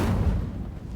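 An Incendio fire spell cast in Hogwarts Legacy gives a single low, rumbling whoosh-boom that swells briefly and fades over about a second, loud and close.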